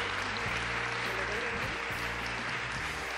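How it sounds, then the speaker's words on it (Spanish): An audience at a women's leadership forum in Mexico claps steadily, a dense, even wash of applause from a sizable crowd filling the whole short moment. "Un fuerte aplauso, por favor"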